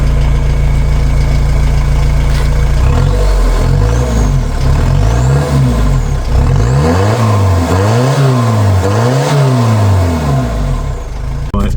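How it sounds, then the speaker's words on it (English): A VW T4 van with a custom side exit exhaust idles loudly and then is revved hard several times, the engine note rising and falling in repeated swells close by. "Let's give it some proper revs."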